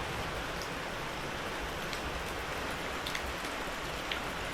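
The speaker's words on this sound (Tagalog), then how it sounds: "Yun, lakas ng ulan. Lumakas na siya." A constant roar of heavy rain in an abandoned village, with a few distinct drops pattering close by over the steady downpour.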